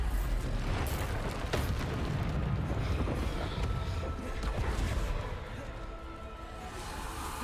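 Bombarda blasting spell cast in Hogwarts Legacy, a dense rumbling burst of game combat noise with booming low end, sustained and loud before easing slightly toward the end.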